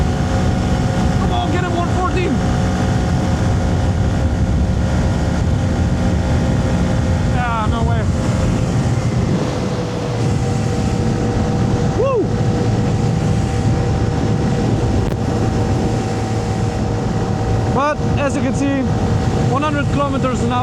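A small Honda Grom MSX125 motorcycle runs at full throttle on a German autobahn, its engine droning steadily under heavy wind rush. Someone talks over it, and other vehicles sweep past now and then.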